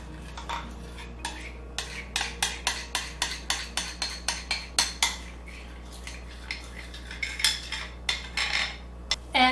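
Baking ingredients for sourdough fudge brownies stirred together in a bowl, a utensil scraping and clinking against the sides in a steady rhythm of sharp, close taps that speed up and then trail off irregularly.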